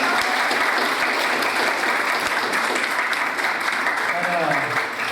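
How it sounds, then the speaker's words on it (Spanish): Wedding guests at a church ceremony clap in a steady burst of applause, with a voice briefly speaking over it toward the end. "Aplausos, por favor."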